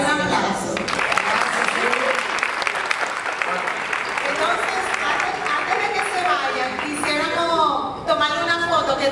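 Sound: audience applause

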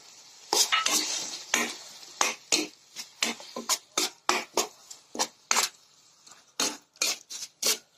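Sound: sautéing chopped tomatoes with salt and turmeric in pan

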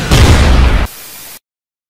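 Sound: cartoon explosion as flying pony is shot down

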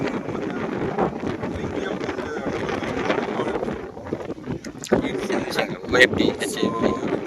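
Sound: strong wind blowing into the microphone

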